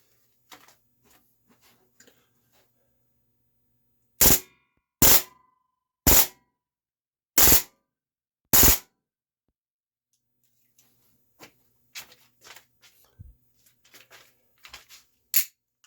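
Beretta airgun fires five sharp, loud shots, spaced about a second apart, with silence before and light clicks and handling noise afterward.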